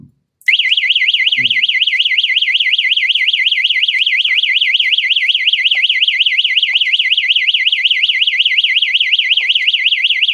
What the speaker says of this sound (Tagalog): Bukas natin yung alarm.